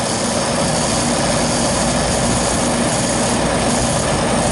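A refrigeration compressor on a 13-year-old system, running during pump-down, gives a steady, loud, close mechanical drone and hum that goes on without a break.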